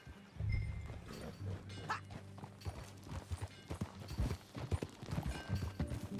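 Horse hooves clip-clop along in Red Dead Redemption 2 as the rider moves out, a quiet, steady run of soft thuds with low background rumble and no talk.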